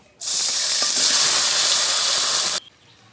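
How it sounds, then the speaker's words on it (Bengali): Potatoes are dropped into hot oil during cooking of a tengra fish dish, producing a sudden loud, steady hissing sizzle that holds for over two seconds, then cuts off abruptly, close to the listener. "এবার আমি আলুগুলো ভেজে নেব।"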